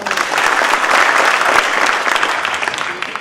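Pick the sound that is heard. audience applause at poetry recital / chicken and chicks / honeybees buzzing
audience applause at poetry recital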